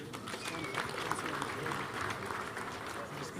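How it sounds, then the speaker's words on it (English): A graduation crowd at Machakos University applauding scholarship beneficiaries, a continuous rippling wash of clapping from a large outdoor audience, with voices mixed in. "Kindly, can we applaud them?"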